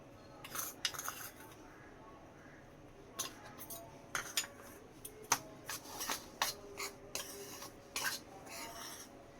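A spoon stirs and scrapes through gram flour and cornflour batter in a bowl, with irregular clinks and soft scraping strokes, close and fairly quiet, with no talk.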